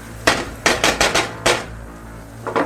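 Buns cooking in a pan are stirred with a utensil, giving a string of sharp metallic clanks and scrapes in uneven clusters, fairly close and loud, with a short pause before a final couple of knocks.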